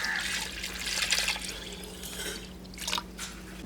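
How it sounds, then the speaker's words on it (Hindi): Water poured into a pot of beef for shami kabab, faint trickling and splashing in soft bursts over a low steady hum. "पानी डालेंगे"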